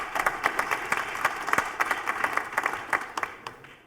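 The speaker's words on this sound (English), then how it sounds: "Thank you for your applause." Audience applause at a conference session in Berlin, a few seconds of moderately loud clapping from a mid-sized crowd that tapers off toward the end.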